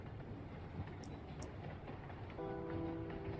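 A train rumbles in a Final Fantasy XIV cutscene, a steady dense rolling noise with a sustained tonal hum rising near the end, fairly loud and continuous.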